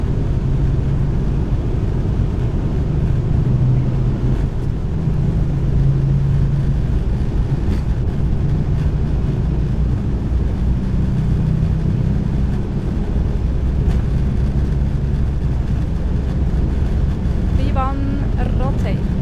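Helvetic Embraer E2 jet engines at takeoff thrust, a steady loud low roar and rumble that holds evenly throughout, with cockpit voices talking over it.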